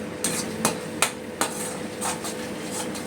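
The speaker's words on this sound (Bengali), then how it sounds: "এখন মশলাটা ভালো করে কষিয়ে নিচ্ছি।" Spice paste for a winter vegetarian potato curry is stirred and fried in a pan, with a spatula scraping and knocking the pan in four or five regular strikes over a soft, steady sizzle, close by and without speech.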